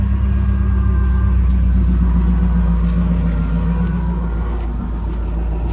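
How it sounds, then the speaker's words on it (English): A 1977 Pontiac Firebird Trans Am with factory catalytic converters and mufflers idles steadily close by, a smooth, even low rumble that keeps going throughout with no voices. "And it idles great."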